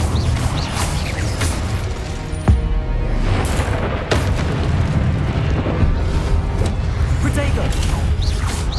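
Confringo and Incendio spell explosions in Hogwarts Legacy: a loud, continuous barrage of booms, crashes and mechanical rumbling, with sharp blasts near the middle and toward the end.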